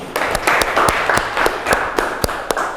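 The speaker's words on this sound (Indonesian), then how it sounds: "Tepuk tangan untuk kita semuanya." A school class applauds during a linear programming lesson: sparse, close hand claps arrive in a loose, steady patter with no talk over them.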